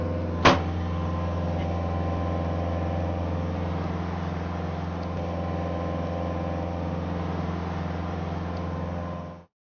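A Kubota SVL compact track loader of about 12,000 pounds holds at full RPM, its diesel drone steady and loud after a brief knock at the start, cutting off abruptly at the end.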